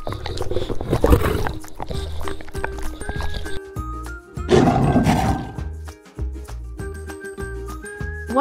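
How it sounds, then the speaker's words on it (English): A cartoon lion roars amid animated background music for a children's animal lesson, with a loud roaring burst early on and another midway through. "This is lion."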